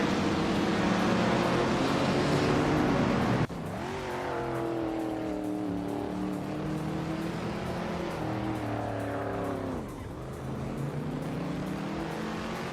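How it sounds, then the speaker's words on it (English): Vintage race cars lapping the Magione track in a racing video game, a steady droning engine note with harmonic revving that dips and climbs through corners, including an abrupt gear change and a later lift-off. "The vintage cars are slow and steady, but the track at Magione seems to favor some models over others."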